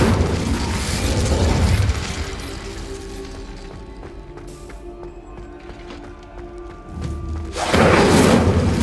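An Incendio fire spell cast in the Hogwarts Legacy video game sounds as a burst of whooshing, roaring fire that opens and then returns in a loud flare near the end, with a quieter mechanical hum between.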